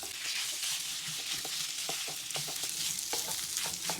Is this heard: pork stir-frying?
yes